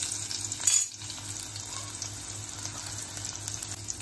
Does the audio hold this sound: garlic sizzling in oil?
yes